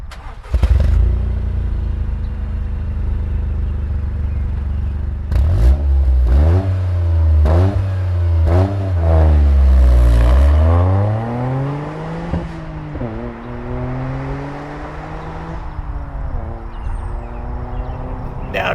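A 2023 Toyota GR Corolla Core revs and accelerates hard through several gears, its engine note climbing in repeated rising sweeps with short pauses at each shift, loud and close throughout.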